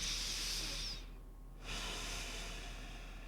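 Slow yoga breathing while resting in broken bridge pose on a mat, a soft hissing inhale and exhale, close and quiet, with a brief lull in the middle and no talking.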